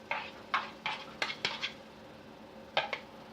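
Spoon scraping and clinking against a cooking pot while curd is mixed into onions for mutton biryani, a series of light, close metallic taps in an irregular rhythm.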